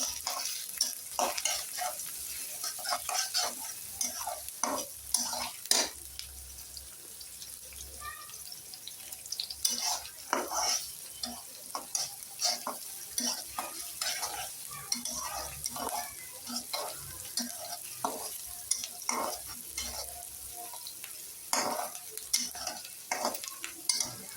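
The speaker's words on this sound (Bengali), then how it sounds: "পেঁয়াজটা এখন ভালো করে ভেজে নিব" Chopped onions and chilies fry with steady sizzling in a pan, with frequent scraping and stirring clicks throughout, fairly close and continuous, with no talking.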